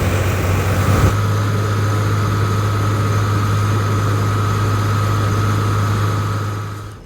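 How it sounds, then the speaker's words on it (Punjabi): A tractor engine runs steadily with a loud constant low drone and hum, close by, during a journey to Takht Sri Hazur Sahib, then tapers off slightly at the end. "ਗੁਰਪ੍ਰੀਤ ਵੀਰਾ ਤੇ ਪੰਦਰ ਵੀਰਾ ਦੋਨੇ ਨੇ ਟਰੈਕਟਰ ਚਲਾਉਣ ਲੱਗੇ ਹੋਏ ਆ"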